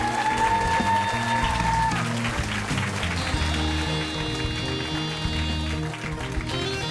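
A book-concert audience gives loud, sustained applause to welcome author Doh-ol Kim Yong-ok, with dense crowd clapping that runs steadily for several seconds and sits over faint background tones.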